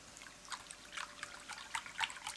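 Three glasses of water poured into a deep bowl make a faint, continuous trickle with small splashy peaks, heard close and alone.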